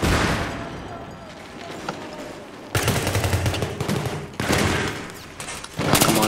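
Battlefield 3 gunfire in game combat: loud bursts of automatic rifle fire break out in several sharp volleys, with quieter shots and talk between them.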